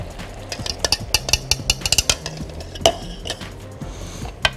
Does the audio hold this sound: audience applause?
no